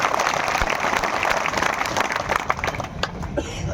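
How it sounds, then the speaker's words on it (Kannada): A crowd of farmers at a public meeting claps in applause, a dense, loud, continuous patter of many hands that thins slightly toward the end. "ಇನ್ನೊಂದ್ಸಾರಿ ಚಪ್ಪಾಳೆ ಹೊಡೀರಿ"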